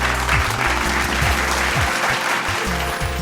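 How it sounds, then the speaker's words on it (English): A church congregation applauds its Service Council ministries, a dense, steady round of clapping with a low droning undertone running beneath it the whole time. "let's give a round of applause to all our Service Council ministries"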